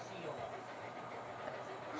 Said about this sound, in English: And they're running long trains here.